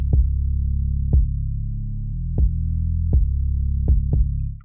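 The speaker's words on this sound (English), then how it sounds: "I've literally just taken a bass loop and a kick, really simple kick pattern, and this is what it sounds like at the moment." A simple electronic kick drum pattern thumps under a steady, droning bass loop, with irregularly spaced punchy kicks over the continuous low hum and no other sounds.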